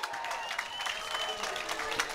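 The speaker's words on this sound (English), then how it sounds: "should come out to a nice round of applause from the hometown fans" Hometown fans at a high school sports game between Sturgeon Bay and Wrightstown give a steady round of applause, a dense wash of crowd clapping with a commentator talking over it.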